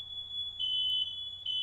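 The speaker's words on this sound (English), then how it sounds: "That is a fire alarm." A fire alarm, apparently set off by burnt toast, beeps in a steady, shrill, high-pitched tone that runs throughout and swells slightly in places, heard alone with no talking.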